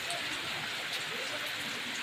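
Rain from Cyclone Montha falls in a steady, even hiss, moderately faint and unbroken across the short stretch.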